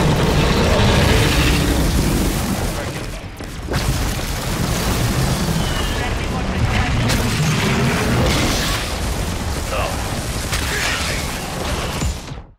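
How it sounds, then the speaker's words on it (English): Continuous heavy rumbling explosions from an airstrike in Call of Duty Modern Warfare 3, loud and dense throughout during a boss fight against a giant worm, with a short dip before the blasts resume. "I got airstrike on him"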